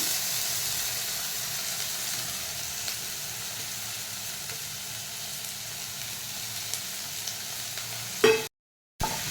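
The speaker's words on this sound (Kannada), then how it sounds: "ಸ್ವಲ್ಪ ತೆಂಗಿನ ಎಣ್ಣೆ ಹಾಕಿಬಿಟ್ಟು ಇದಕ್ಕೆ ಈರುಳ್ಳಿ ಮತ್ತು ಟೊಮ್ಯಾಟೊ ಹಾಕಿ ಫ್ರೈ ಮಾಡಬೇಕು" Onion and tomato fry in coconut oil in a pan, a steady, moderately soft sizzle close by throughout, ending in a short clatter and a brief break.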